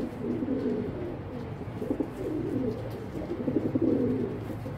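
Racing pigeons cooing in steady, rolling bursts nearby, several soft throaty coos repeating under a constant background hum.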